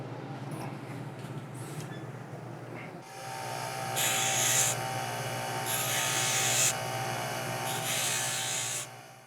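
A 1/16 inch thoriated tungsten electrode from a TIG welding torch is ground clean on a spinning wheel: a steady motor hum, then loud, close, rasping grinding bursts of a few seconds each, with no talk.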